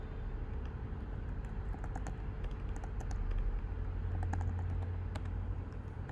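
Typing on a computer keyboard, soft irregular key clicks scattered over a steady low background hum, fairly faint and without talk.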